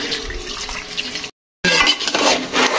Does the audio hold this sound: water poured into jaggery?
yes